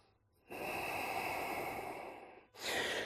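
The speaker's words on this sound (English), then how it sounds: "Deep breaths." Deep breathing during a yoga flow: one long, steady, airy breath held for about two seconds, then a second breath starting, close and soft with no talking.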